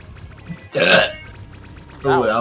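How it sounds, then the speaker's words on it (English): A single sharp hiccup bursts out loud and close during a Roblox Dragon Blox Ultimate game session, set among bits of casual talk and playful vocal noises from a young player. "You got the hiccups, get water."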